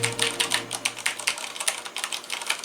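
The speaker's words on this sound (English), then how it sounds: "what does this keyboard sound like? So here we go. Here's some typing so you can hear." Rapid mechanical keyboard typing, crisp clacky keystrokes in a steady irregular stream, close and fairly loud, no voices.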